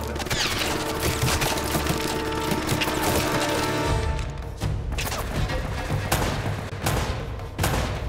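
Gunfire in the Uncharted video game, a dense stretch of rapid shots and crashes under a steady game soundtrack, loud and continuous with no voices.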